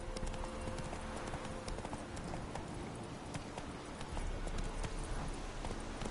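Hooves of the horse Roach galloping in the video game Witcher 3: a steady, loud clip-clop rhythm running throughout, with no voice over it.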